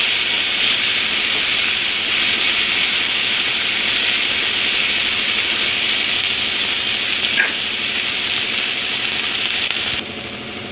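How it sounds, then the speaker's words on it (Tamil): Onions softening lightly in a pan for bitter gourd thokku, a loud, even hiss of frying that runs throughout with one small clink partway, no voices. "வெங்காயம் வந்து நல்லா வதங்கட்டும்."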